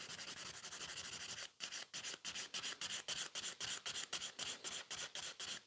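A 100 grit file worked over a sculpted fiber gel nail, first one long continuous rasp, then quick regular back-and-forth strokes, close and crisp with no voice.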